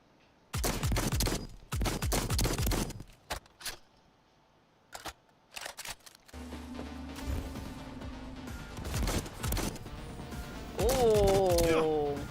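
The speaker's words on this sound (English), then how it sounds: "Sinenko LX Tech machine gun." Machine gun fire in the Cyberpunk video game, a Sinenko LX Tech submachine gun, crackles in loud bursts over the first several seconds, followed by denser game noise with a voice talking over it.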